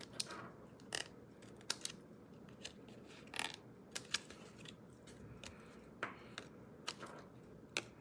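Scissors snip through leftover paper trimmed from a handmade card in a papercraft class: a run of sharp, close cuts at uneven intervals over a faint background hiss.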